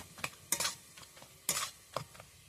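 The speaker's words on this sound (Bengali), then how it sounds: "এইভাবে আমি সবজিটাকে একটু নেড়ে নেব" A spoon stirs boiled vegetables in a pan, with several short scraping, sizzling strokes in irregular bursts close by and quiet gaps between them.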